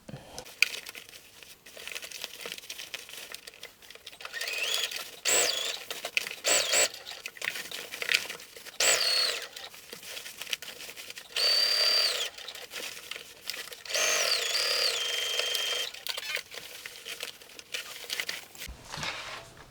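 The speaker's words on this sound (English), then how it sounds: "we're gonna sew another top stitch 1/4 inch away from that first line, and then we'll repeat the same for the other pocket" Sewing machine top stitching a pocket on a garment, in bursts of fast rattling stitches separated by short pauses, close and fairly quiet with no talking.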